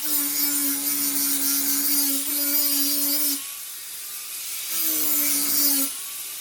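A power grinder working the blade of a worn Great States reel mower, a loud, steady high-pitched grinding whine that cuts out briefly midway and starts again, close up with no voices.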